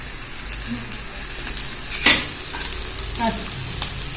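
Thinly sliced onions dropped into hot oil in a pan, a steady close sizzle broken by a loud clatter and scrape of a spatula stirring them, then softer stirring.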